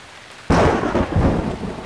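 After a quiet moment, a sudden loud crack of thunder breaks out and rolls on over a heavy, hissing downpour.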